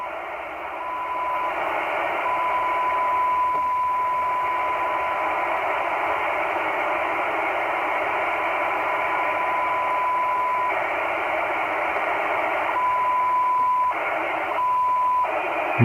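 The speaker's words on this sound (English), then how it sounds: "Minus 125, we can hear the signal." Weak analog UHF/VHF signal received on a Blackview XPLORE1 DMR walkie-talkie, heard as a steady band-limited hiss of static with faint tones running under it, holding at an even level with brief dips near the end.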